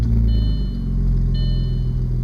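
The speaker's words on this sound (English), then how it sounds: "So it's got a nice little rumble." A 2002 Audi S4 with an exhaust leak at the collectors idles with a deep, steady close-up rumble and a faint high whine layered over it, heard alone.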